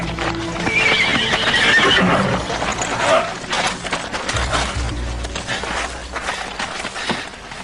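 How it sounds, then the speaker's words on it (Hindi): A horse neighs and whinnies loudly near the start, then hooves clip-clop at a brisk, uneven pace, close and prominent, with scattered rustling and a voice briefly underneath. "उस घोड़े को रोको।"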